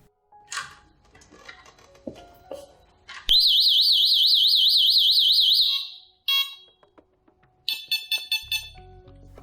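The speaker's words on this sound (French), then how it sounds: "la sirène a émis une longue série de bips, après les 2 bips habituels de l'arrêt" A Delta Dore TYXAL+ home alarm siren gives a few short beeps, then a loud, sustained warbling tone for about three seconds, then a quick series of rapid beeps after a pause, all close and with no talk.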